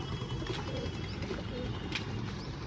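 Pigeons coo at a feeding spot. A low, dense murmur of cooing and rustling goes on without a break, with a brief sharper chirp or clink near the end.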